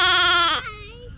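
A goat at a children's play farm lets out a single loud, wavering bleat up close, trailing off into a quieter tail.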